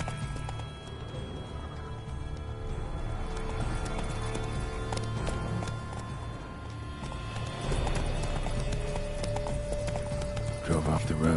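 The horse Roach gallops in The Witcher 3, a dense rapid drumming of hooves under game music and ambience, continuous and fairly loud throughout, with a brief whinny-like burst near the end.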